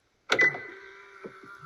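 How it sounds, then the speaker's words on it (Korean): Someone gets into a car: a sharp door click and clunk, then a steady electronic chime tone, followed by a couple of soft thumps, close and fairly quiet. "차 타는 소리,"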